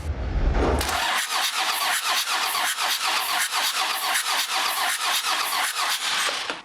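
A 5.9 Cummins 12-valve diesel cranks on the starter during a compression test, a steady rhythmic chug of about a dozen even compression beats with a high squealing whine, close and loud after a brief low thump at the start, with no talking.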